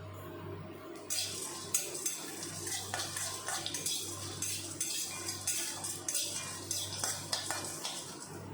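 Whole biryani spices dry-roasting in a dry wok, stirred with a metal spatula, giving repeated rattling scrapes and clinks over a faint low hum, close and steady.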